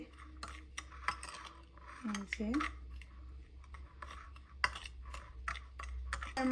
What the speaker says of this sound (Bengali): চামচ দিয়ে মিক্স করে নিতেছি